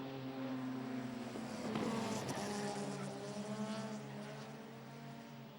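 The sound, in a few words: modified production cars racing at Kingaroy Speedway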